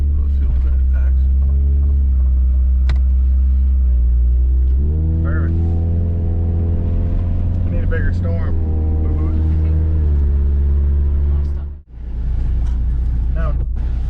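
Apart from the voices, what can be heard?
1989 Honda Civic RT4WD wagon engine revving, hitting fuel cut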